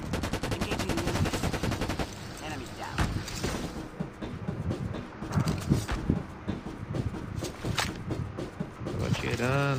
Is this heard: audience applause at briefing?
no